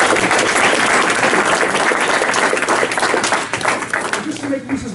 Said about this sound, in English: So let's give Lisa a great big round of applause.